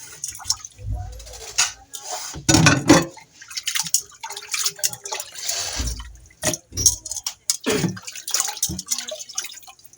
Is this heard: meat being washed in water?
yes